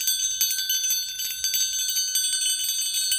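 A bell rings continuously and loudly up close, a bright, shimmering metallic tone with rapid repeated strikes and no voices.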